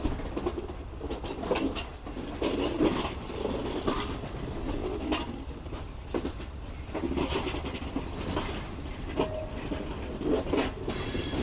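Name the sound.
Pak Business Express train leaving Karachi Cantt station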